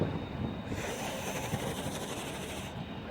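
A Class 175 diesel unit passes through Stockport station as a dense, steady rumble of wheels and engine, close and loud throughout, with a higher rushing layer that swells and fades.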